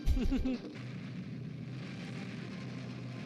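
An explosion in the Flash Gordon serial bursts loud and deep for about half a second, then settles into a steady low rumble that carries on to the end.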